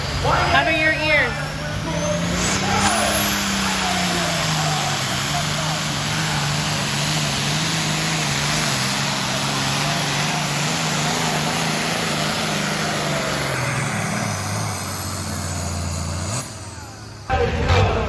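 Superstock tractors roar at a tractor pull, one sustained, heavy engine drone holding steady and loud for about fifteen seconds before it drops away, with a voice talking briefly over it.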